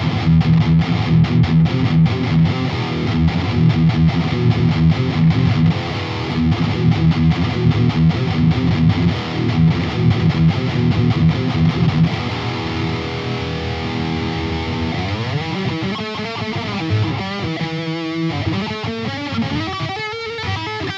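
Electric guitar played through the distortion channel of an Engl Savage 60 Mark II all-tube amp head, a dense, loud, sustained overdriven tone with chugging chords shifting into bending, wavering notes, no talk.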